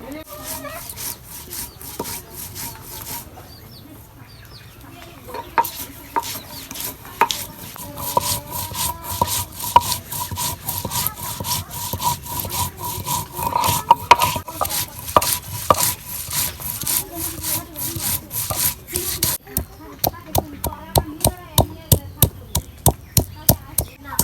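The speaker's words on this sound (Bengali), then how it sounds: "এই যে আমার শিলপাড়ার মধ্যে আমি মোজ বাইটা নিব আদা রসুন পিঁয়াজ আমি সব বাইটা নিব শিল্পাটার মধ্যে" Ginger, garlic and onion being ground by hand on a flat grinding stone, a rough rhythmic rubbing and scraping of stone on stone that speeds into quick regular strokes, close and steady, with no talk.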